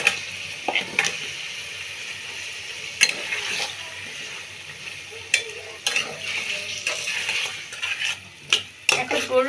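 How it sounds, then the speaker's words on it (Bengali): Beef and potatoes stirred into a frying spice paste heavy with chilli powder, with irregular metal spoon scrapes and clinks against the pan over a steady low sizzle, nearby and moderately loud, no talking. "এখন এর মধ্যে প্রধান উপকরণ গরুর মাংস আর কিছু আলু দিয়ে দিচ্ছি"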